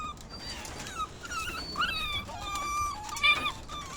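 Litter of gypsy puppies and their mother dog whimpering and yipping, several thin high-pitched whines overlapping in quick succession close by against light background noise.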